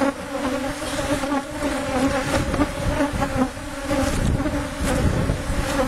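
Bees hum loudly and continuously at an opened hive during an April inspection, a close, dense buzzing swarm sound that swells and dips slightly, with no voices.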